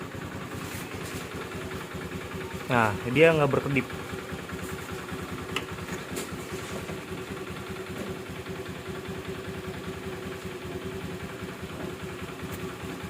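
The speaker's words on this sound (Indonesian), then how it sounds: "ini bisa lihat motor udah nyala" A motorcycle engine idles steadily just after being started, a low, even rumble that runs the whole time, with a short stretch of nearby talking near the start.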